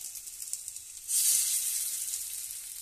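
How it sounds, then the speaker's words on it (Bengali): Pumpkin fritters (kumro bora) are deep-fried in hot oil. A faint crackle suddenly swells into a loud, bright, continuous sizzle as batter drops into the pan, then holds steady. "এবার শুধু ভেজে নিলেই আমার রেডি হয়ে যাবে।"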